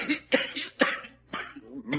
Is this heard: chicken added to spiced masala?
no